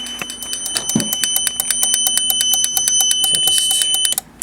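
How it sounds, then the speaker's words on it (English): A Snap Circuits relay system chatters loudly and continuously in rapid, evenly spaced clicks over a steady high electronic tone, like a buzzing alarm, running for several seconds before cutting off abruptly. "The snap circuits relays are incredibly loud."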